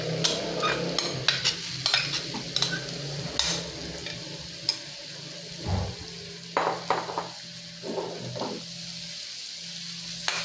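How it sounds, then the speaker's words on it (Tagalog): Garlic and onion sauté in a hot pan, a steady soft sizzle running under repeated sharp scrapes and taps of a utensil stirring against the pan. "Halu-haluin lang natin yan para magisa siya."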